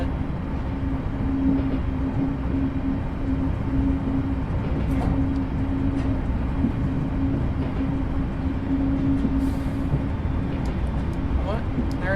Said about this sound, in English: There's a moving train.